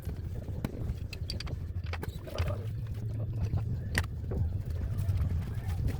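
A diesel engine driving a water pump runs steadily during manual well drilling, a low rumbling drone under scattered knocks and clanks of handling the hose and pipe, fairly quiet and close.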